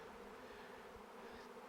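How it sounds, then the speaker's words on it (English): Dense swarm of bees buzzing all around, a steady, close, continuous drone with no talking, heard during an attempt to catch a swarm by hand near the queen. "so I'm literally in a cloud of bees right now"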